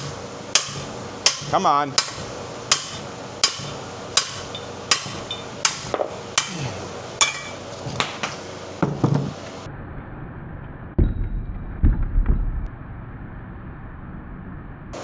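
A 3-pound sledgehammer pounds on the lower ball joint of a 2005-2007 Jeep Liberty, landing about a dozen sharp, evenly spaced metallic whacks up close. Afterward come a few scuffs and a brief spoken remark.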